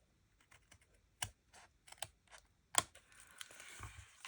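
Metal snips cutting through card stock during a stamping craft project: a series of soft, close clicks and snips, irregularly spaced, with one sharper cut near the end followed by faint rustling.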